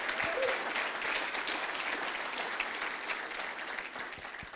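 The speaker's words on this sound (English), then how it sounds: "Give yourself another round of applause." A room full of people at a National Signing Day ceremony for Arlington ISD gives a sustained round of applause, loud and even, slowly tapering off toward the end.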